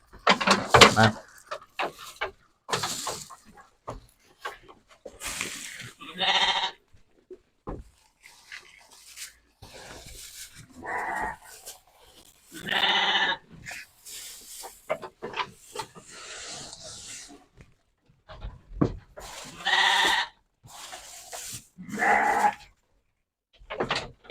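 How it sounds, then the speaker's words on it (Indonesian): Sheep bleating repeatedly while being fed peanut shell fodder on a farm, loud calls from several animals in bursts with short quiet gaps, alongside some rustling. "Nih teman-teman, kita langsung kasih ya si dombanya."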